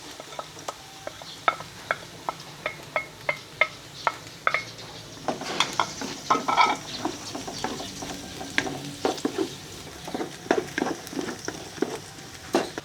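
Chopped onion and garlic sautéing in a hot frying pan for a Filipino ground-pork dish: steady sizzle with repeated close scrapes and taps of a spatula stirring against the pan, no talking.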